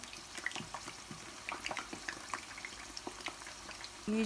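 Eggplants for karnıyarık fry in hot oil in a pan, a continuous soft crackle of spitting and popping bubbles with scattered sharper pops, close and moderately quiet, ending with a brief clatter.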